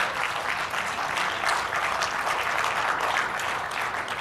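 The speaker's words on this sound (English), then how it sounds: "Go ahead and clap." A conference audience at a game developers' talk about live actors in VR claps steadily, a dense, sustained wash of applause with no talking over it.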